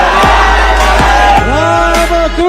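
A political rally crowd in Baramati shouting a devotional slogan together, loud rhythmic chanted bursts from many voices at once, close and strong, repeated several times.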